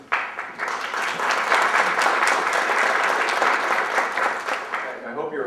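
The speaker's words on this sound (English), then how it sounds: "I hope you're applauding our victory" An audience at a talk on the Military Commissions Act applauds, a dense sustained round of clapping that rises quickly, holds steady, then tapers off.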